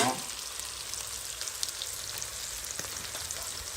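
Garlic and ginger sizzle and fry among browned onions in a pan, a steady close hiss with occasional soft stirring scrapes, no talk.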